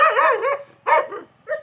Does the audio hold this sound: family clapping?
no